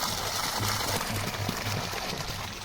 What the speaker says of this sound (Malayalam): അങ്ങനെ വെള്ളം ഇവിടെ തുറന്നിട്ടുണ്ട്.